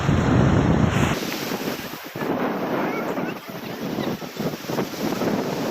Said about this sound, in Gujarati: જુઓ નદીની કેટલી ધોધ મારી રહી છે